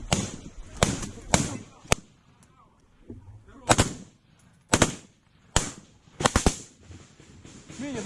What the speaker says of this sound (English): See rocket fire.